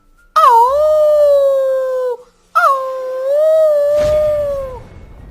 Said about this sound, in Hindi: तभी उसको कुत्ते की रोने की आवाज आती है।